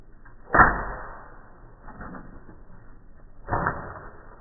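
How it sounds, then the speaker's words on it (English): An arrow is shot from a bow at a water bottle, giving a sharp thwack followed by a softer rustle and then a second, lighter impact a few seconds later. "my last and final weapon is the bow and arrow"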